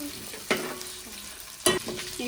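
Green chillies frying in hot oil, a steady close sizzle broken by two sharp scraping stirs of a utensil against the pan.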